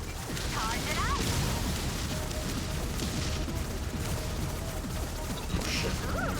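Explosions from the video game Subverse: dense, continuous blasts, crashes and rumbling booms pile up loudly and without a break, like a sustained barrage.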